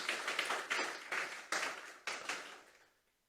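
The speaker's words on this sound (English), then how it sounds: "Let's give him a round of applause again." Audience applause at the Mayaro Legacy Awards 2022 ceremony: a few seconds of dense clapping from a crowd, swelling in short waves and then fading out to quiet.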